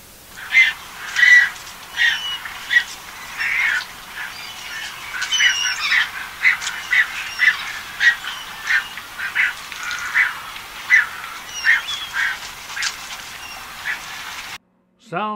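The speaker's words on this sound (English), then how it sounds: "Brown pelican." Brown pelican calls, a busy run of short, nasal, quacking-like honks and squeaks repeated in an uneven rhythm, fairly close and steady before breaking off abruptly at the end.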